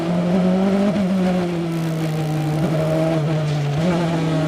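Onboard a Cadillac prototype race car at an American Le Mans Series race in Miami, the engine holding a loud, steady high-revving drone with brief dips at gear changes or lifts, close and continuous with no voices.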